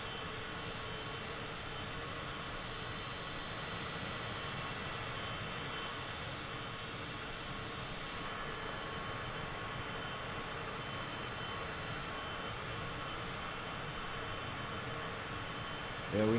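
Cessna Citation CJ4 jet in Microsoft Flight Simulator, a steady, fairly quiet whining jet-engine drone with a constant broadband hiss and a thin high tone, no voices, unchanging throughout.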